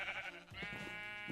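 Sheep bleating in a Minecraft-style farming game, a wavering, nasal baa followed by a second sheep cry, faint and close, with no talking over it.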